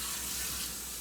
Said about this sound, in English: you gotta have a little bit of water in here